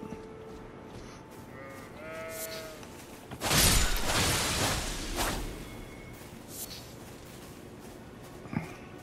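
Sheep bleating in the Elden Ring game world, a couple of wavering bleats early on, then a loud whooshing rush and scattered impacts, with a sharp thud near the end; game sound only, no talking.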